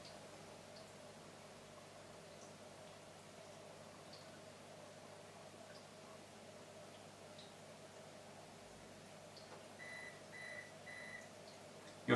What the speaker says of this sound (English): You'll hear the beep